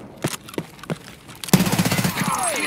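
Gunfire in the video game Escape From Tarkov: three separate loud single shots, then a fast rattling automatic burst, close and sharp.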